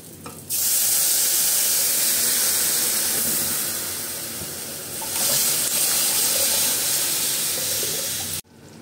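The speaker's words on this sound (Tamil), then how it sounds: "இப்போது ரசம் அப்படியே பொங்கி நுரைச்சிக்கிட்டு வருது" Rasam with asafoetida boils and froths up in a pot, making a continuous loud hissing, bubbling wash that swells and eases, then cuts off abruptly.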